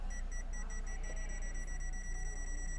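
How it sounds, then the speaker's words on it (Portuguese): While a Chevrolet Onix backs up, its parking sensor gives a few rapid beeps that merge into one continuous high electronic tone over faint cabin hum. "vai aumentando o bip do sensor de estacionamento"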